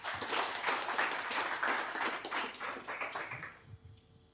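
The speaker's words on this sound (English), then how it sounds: "Let's give Chris a big round of applause." Audience applause for a presenter at a startup pitch night, a dense wash of many hands clapping steadily for about three and a half seconds before fading out.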